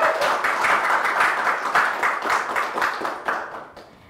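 Energetic applause from a group of students at a local TV program's school segment, steady rhythmic clapping continuing for several seconds and tapering off toward the end, with little talk.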